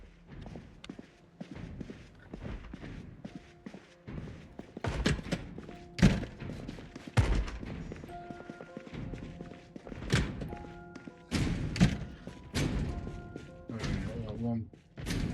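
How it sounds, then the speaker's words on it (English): Heavy thuds and thumps hit a door in the Project Zomboid video game as a zombie bangs on it. The blows come irregularly and fairly close, mixed with footsteps, and a voice talks through much of it. "banging on the door here"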